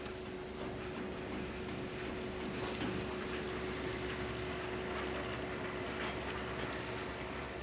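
A train of railway wagons rolls past at moderate distance with a steady rumble, faint clicking and rattling of the cars, and a constant low tone droning under the noise throughout.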